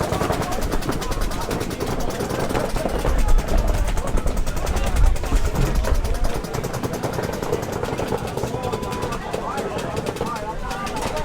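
Rapid, continuous popping of many paintball markers firing at once during a league match, a dense crackling barrage throughout with commentators talking over it.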